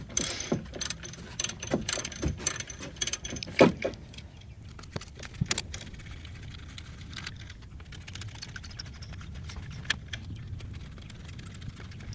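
Hand tools working the bolts off the top of a front strut on a 2007 Toyota, a run of sharp metallic clicks and ratcheting taps in irregular bursts, close by and without talking.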